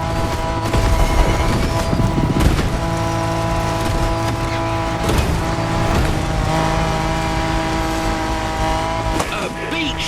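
Japanese truck barreling fast down a steep, rough descent in The Crew Motorfest, a steady loud engine drone with tire noise and occasional thumps and impacts from the suspension, continuous throughout with game music underneath.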